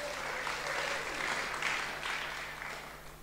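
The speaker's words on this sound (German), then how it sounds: "das ist doch ein Applaus wert," A German conference audience at a workshop on fair lifestyles breaks into brief, steady applause, a dense wash of clapping filling the room for a few seconds.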